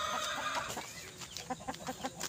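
Backyard fighting-cock chickens cluck in short bursts close by, several birds calling in a busy, irregular pattern over a faint background.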